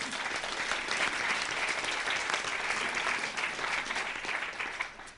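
Seminar audience applause, a steady, full wash of clapping that holds evenly throughout and tapers slightly at the end.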